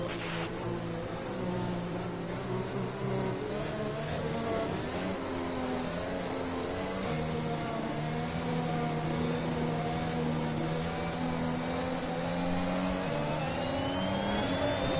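Racing cars in a racing video game accelerating after a safety car period, layered engine tones rising and shifting steadily, continuous and fairly loud with no talk.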